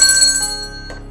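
A single bright bell strike rings out as a news segment sound cue, its clear metallic tone sustaining and slowly fading over about a second, alone without speech.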